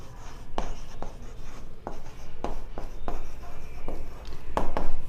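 Marker or chalk writing on a board during a maths lesson, a series of short scratchy strokes spread irregularly over a few seconds, close and fairly clear over a low background hum.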